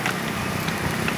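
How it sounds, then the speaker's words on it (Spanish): Rain falls steadily in Siloé, a hillside district of Cali, Colombia, making a dense, constant hiss and patter with no talking. "Y llueve pues acá en Siloé, en la ciudad de Cali, Colombia, Sudamérica."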